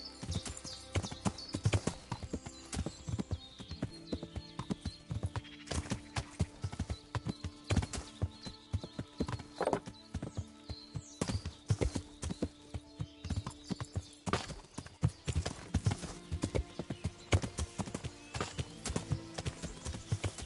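Horse hooves clip-clopping in Kingdom Come: Deliverance, a long run of sharp, close hoofbeats in an uneven rhythm over a quiet background.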